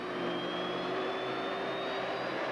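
Lockheed F-117 Nighthawk test plane flying on its first flight, giving a steady, continuous jet engine roar with a faint whine that slowly shifts in pitch.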